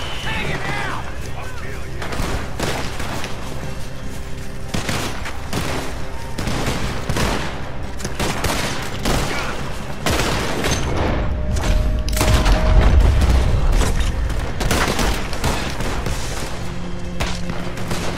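Rapid gunfire fills a Red Dead Redemption 2 shootout, with dense bursts of shots and heavier booms, some near and loud, others layered behind, while a voice talks intermittently over the fight.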